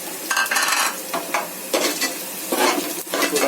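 Whole spices (black pepper, green cardamom, fenugreek seeds, black cumin and cinnamon) frying in a pot for traditional beef biryani, giving a steady close sizzle broken by bursts of stirring scrapes, with no talk.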